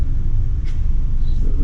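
Kei car creeping forward onto an inspection hoist at a Japanese vehicle safety inspection, a steady low engine rumble held close and even throughout with no one talking.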